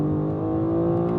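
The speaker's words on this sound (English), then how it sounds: "It's more engine note than it is exhaust" A car engine holds a steady, loud, throaty hum with a deep rumbling drone, continuous and close, with no voices, from a BMW M2 CS or Audi RS3 with exhaust valves open.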